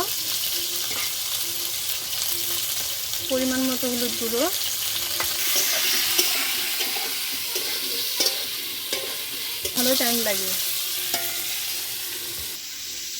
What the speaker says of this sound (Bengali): এখন আমি তেলে পটলগুলো ভেজে নেব।